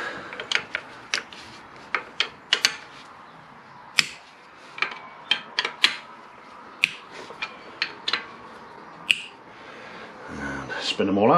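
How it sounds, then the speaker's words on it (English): Sharp ratcheting clicks and snaps from a wrench cracking loose 8mm bolts on a 1994 Triumph Sprint 900 engine, close and fairly loud, coming in short irregular bursts with brief pauses between them and a louder rattle near the end. "I'll crack all these bolts off. These are just 8mm."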